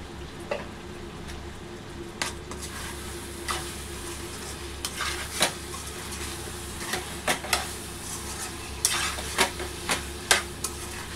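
A spoon stirs and scrapes chicken gongura curry with homemade garam masala in a hot pan, sending out a continuous close sizzle broken by irregular sharp knocks and scrapes of metal against the pan.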